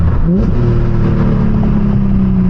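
A car engine revs through a downshift on a potholed road, with a quick rising blip followed by a steady droning engine note heard loud and close from inside the cabin.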